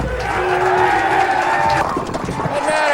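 A large arena crowd at a professional bowling championship cheers and shouts in a sustained roar, loud and continuous, with crowd noise swelling throughout.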